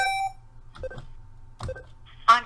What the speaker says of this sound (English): please enter a preferred phone number to receive the text or automated call back survey